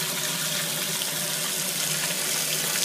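Water runs steadily from a color-change faucet, a bright, continuous splashing hiss into a sink with no break and no voices.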